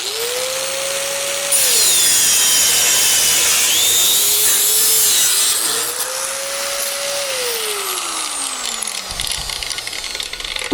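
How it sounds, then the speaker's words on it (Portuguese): An angle grinder forced hard into metal with heavy arm pressure in a metalworking shop, a loud, steady whine with a high cutting hiss that rises and dips as the load changes before winding down. "Agora eu vou deixar nessa medida e vou fazer um corte agora pondo a força do braço em cima da máquina e cortando ela com brutalidade."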